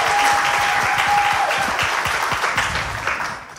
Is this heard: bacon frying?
no